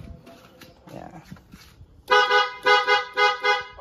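A newly installed PIAA car horn sounds in several loud, close honks after some quieter handling noise, the blasts coming in a quick series of short bursts.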